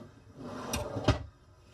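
A kitchen drawer in a Crafter camper van conversion slides and shuts, giving two close knocks about a third of a second apart over a quiet room background.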